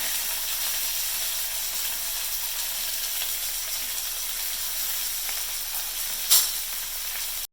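Onions fry in a pan for a mixed vegetable kurma, giving a steady, even sizzle and hiss throughout, with one brief, sharper scrape of stirring near the end.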